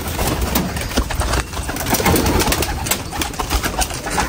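Pigeons, a male and female pair among birds kept for sale, coo repeatedly at close range amid steady background noise and other bird sounds, with no speech.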